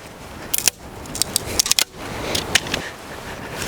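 Garden shears snip raspberry canes for edging in a series of quick, close, crisp cuts with light rustling between them.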